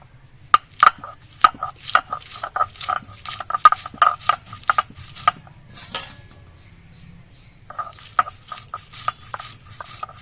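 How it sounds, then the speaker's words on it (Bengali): Green chillies are ground into paste on a stone, giving rapid rhythmic knocking and scraping strokes, close and crisp, that stop briefly before resuming. "তার জন্য কিছু কাঁচা লঙ্কা বেটে নিচ্ছি"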